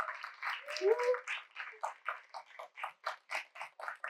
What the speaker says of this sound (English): Round of applause for our panelists, please.